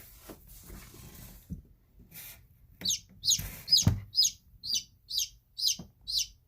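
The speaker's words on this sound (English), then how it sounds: "a new little chicken to add to the flock" A newly hatched chicken chick peeps in a string of about eight short, high, evenly spaced chirps, close and clear, following some soft rustling and handling noise.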